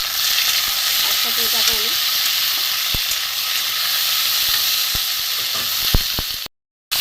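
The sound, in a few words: prawns frying in hot oil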